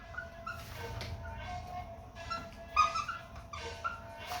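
A dog whimpers in a few thin, high whines that rise and fade, not very loud, over a low background rumble with faint voices.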